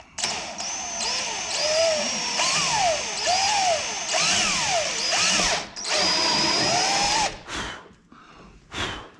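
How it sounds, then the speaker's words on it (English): A drill bores through the fiberglass body of an FFR MkIV roadster, whining loud and close in repeated bursts whose pitch rises and dips as the bit bites and frees, ending with brief stops and restarts. "It is cutting very quickly through the fiberglass, so be aware."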